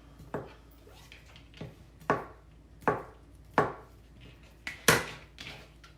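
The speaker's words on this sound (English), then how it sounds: "when you cut them like this, already boiled, it's kind of a messy job" A knife cuts through boiled food on a board, giving six or seven distinct thuds at an uneven pace, each a soft wet chop against the surface, close and moderately loud with no talk over it.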